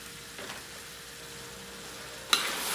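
Pancit canton noodles and vegetables are stirred in a pan, giving a low, steady sizzle with a faint scrape of a utensil and one brighter burst of hissing near the end.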